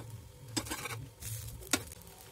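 Potato sandwich crisping on a tawa, a low steady sizzle with scraping bursts and two sharp clacks as the spatula flips it.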